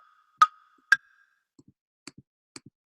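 Hollow wood block hits from beat-making software, two sharper, ringing strikes followed by softer paired taps in a sparse, evenly spaced pattern, with nothing else behind them.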